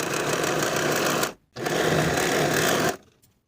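A sewing machine stitches the short edges of a fabric sleeve ruffle, running loud and close in two steady whirring bursts separated by a brief stop.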